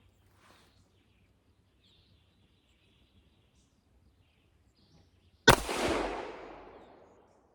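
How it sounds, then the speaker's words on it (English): A single loud pistol shot from a Colt M45A1 1911 fires at about five and a half seconds after near-silence, its sharp broadband crack trailing off into a long decaying echo. "we're going to continue shooting"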